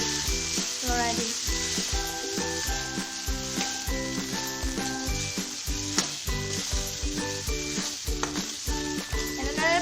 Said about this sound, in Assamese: এনেদৰে ভাজিব 2 মিনিটমান।